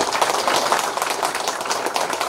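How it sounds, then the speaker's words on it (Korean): A crowd at a volunteer fire brigade day ceremony in Korea claps briefly, brisk dense applause heard close and fairly loud without speech. "큰 박수 한번 부탁드립니다"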